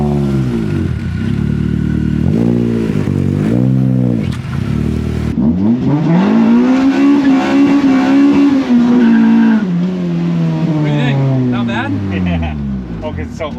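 Honda CRX driven hard on a lap, close engine revving through rising and falling gear pulls with sustained high-rpm drone and brief shifts, people talking over it inside the car.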